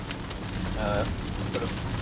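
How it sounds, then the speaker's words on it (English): Rain drums on the roof of a Kia EV9, a dense, steady patter of close drops. A faint voice-like tone surfaces briefly beneath it. "You're not gonna be able to hear yourself with all this noise of the rain."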